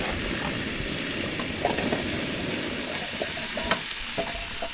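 A Camp Chef propane camp stove burner roars steadily on high outdoors, a constant breathy hiss with faint crackles and ticks, and no voices.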